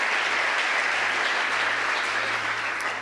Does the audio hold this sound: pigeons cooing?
no